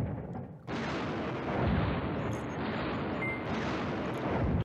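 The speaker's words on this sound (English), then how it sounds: "Airstrike." Airstrike explosions in the Command Ops 2 wargame at Joe's Bridge, heard as a loud, sustained broadband rumble of blasts and artillery-like fire that starts abruptly and continues without pause, with no talk.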